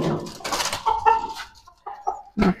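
Chickens kept in a small space at home cluck in short, close bursts, with a few brief pauses between the calls.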